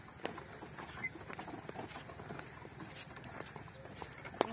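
Donkey hooves clip-clop at a steady walking pace during a donkey ride in a village, faint and a little distant against outdoor background noise.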